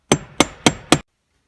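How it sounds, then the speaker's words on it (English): A hammer striking a flat-edge pry bar wedged under the shifter of a Tremec T56 six-speed transmission, four sharp metallic blows in an even rhythm, heard close and loud, then silence. "hit on the bottom of it with a hammer, and that should loosen"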